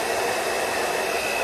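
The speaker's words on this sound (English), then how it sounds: "I usually will just take my hair dryer for a second" A hair dryer blows with a steady, loud whooshing roar and a thin high whine, continuous throughout with no voices.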